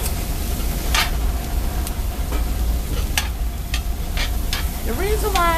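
Sausages sizzle loudly and steadily in a cast iron skillet alongside fried potatoes with green peppers and onions, a dense hiss punctuated by sharp scraping stirs and pops, close and continuous.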